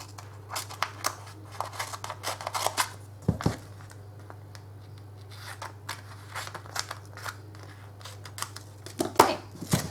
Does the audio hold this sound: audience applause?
no